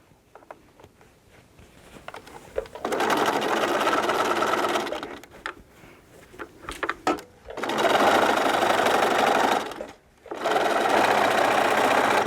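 A sewing machine stitches a curved fabric basket in long steady runs of fast, even mechanical whirring, stopping briefly between bursts, close and loud.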